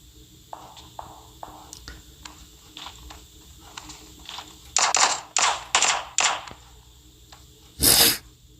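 Gunfire in PUBG Mobile: scattered faint clicks, then a quick run of four loud, sharp bursts, and one more heavy shot after a short pause.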